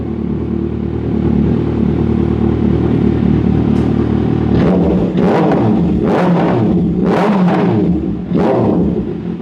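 A superbike engine idles with a steady low hum, then a run of sharp revving bursts rises and falls close by. No one speaks.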